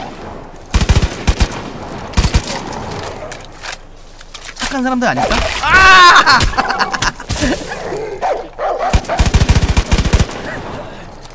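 Machine gun fire in the video game Far Cry 5 comes as loud, rapid bursts repeated across the scene, with a person talking and exclaiming between and over the shots.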